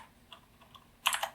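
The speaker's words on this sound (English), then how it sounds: "I like the clicky switches." Keys clack on a Dactyl split keyboard fitted with clicky switches, a few sparse taps followed by a quick, louder burst of rapid clicks, close up and with no voices.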